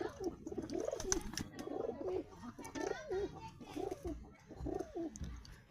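Pet pigeons coo in soft, repeated throaty phrases close by, a few birds overlapping in an uneven rhythm, with faint murmuring voices in the background.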